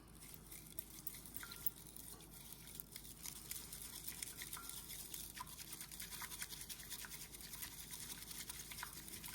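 Matcha and water whisked by hand into a foam for a cold matcha latte, a steady fine scratchy swishing that runs continuously and fairly quietly without pause.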